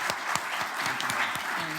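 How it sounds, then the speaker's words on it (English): An audience applauds panel speakers at a venture capital event: steady, dense clapping throughout, with a voice briefly audible beneath it. "A little round of applause is in order"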